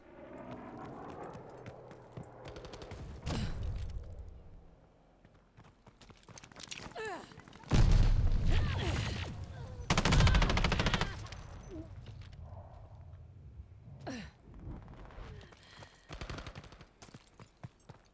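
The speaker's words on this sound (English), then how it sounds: "I got 20 shots of this gun" Bursts of gunfire from a heavy gun in a video game, loud clusters of shots in uneven volleys between quieter stretches of action noise.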